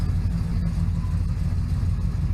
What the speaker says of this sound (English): We're going to take the Chevelle out for a ride.